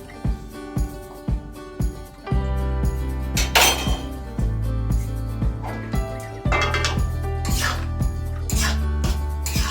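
Oats khichuri being stirred in a pan, with repeated clinks and scrapes of a spoon against cookware over a steady background hum.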